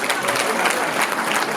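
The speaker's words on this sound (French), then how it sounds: "que je vous demande d'applaudir également" A gala audience at a Hilloula celebration in Marseille bursts into loud, dense applause, a continuous wash of many hands clapping close by with a faint crowd murmur underneath.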